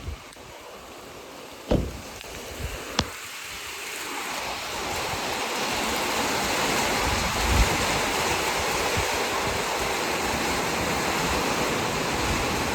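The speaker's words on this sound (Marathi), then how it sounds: "आता भरपूरच पाऊस आला आहे." Heavy rain pours down in the Konkan during a storm, a dense, continuous hiss that swells louder after a few seconds, with a couple of sharp knocks early on and no talking.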